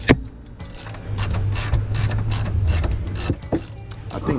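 A wrench ratchets in quick, uneven clicking bursts while loosening a bolt on the lower control arm of a Honda CRX, heard close up over a low background hum.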